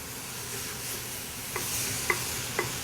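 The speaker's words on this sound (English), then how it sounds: "So you can hear that the pan is definitely hot." Food sizzles in a hot pan at the start of a broth for tortelli en brodo, a soft steady hiss broken by three or four light stirring knocks, with no voices.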